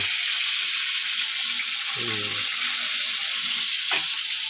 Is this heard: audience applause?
no